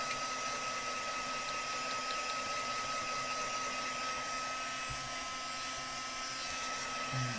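A heat tool blows steadily across the back of a buckling paper card while it dries, a continuous loud whooshing hum with a faint tonal whine that runs without a break.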